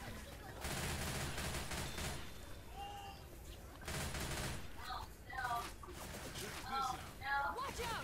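Gunfire in the Left 4 Dead 2 video game comes as dense rapid bursts of shots in two long stretches, fairly loud against a busy game backdrop, with players' voices talking in between.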